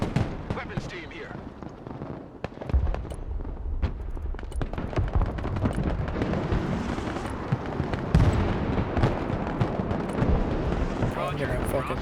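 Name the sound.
artillery fire and explosions in a video game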